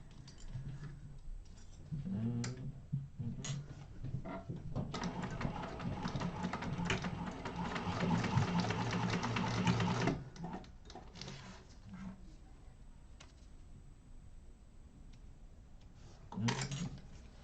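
A sewing machine top stitching through a zipper tab during a bag-making class: a steady run of quiet, rapid mechanical stitching in the middle, with softer handling clicks around it and faint talk nearby.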